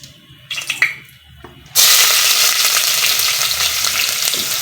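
Whole cinnamon, fennel seeds, cloves, mace and stone flower hit hot oil for home-made chicken biryani, a few quiet clinks giving way to a loud, steady sizzle that holds to the end.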